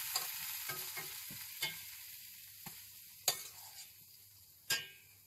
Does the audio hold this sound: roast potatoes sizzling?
yes